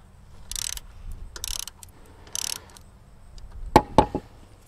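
Wrench loosening 10 millimeter screws on a Bosch GCM12SD glide miter saw, a few short metallic ratcheting clicks and scrapes in quick bursts followed by two sharper knocks, close and fairly quiet.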